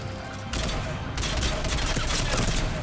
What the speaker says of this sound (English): Trying to burst fire, this gun just doesn't work